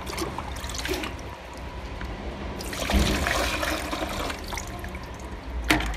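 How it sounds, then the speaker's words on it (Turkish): Water is poured into the trunk of a toy car being washed, a soft trickling and splashing with a few brief sloshing bursts, fairly quiet and close. "Aa, bagajı suyla doldurdum."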